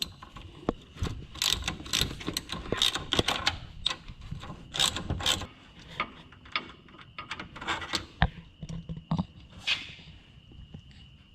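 A ratchet clicks steadily while a 15 mm nut and bolt are worked loose from a car's tie rod, bursts of rapid pawl ticking broken by short pauses and the clank of tools, close up.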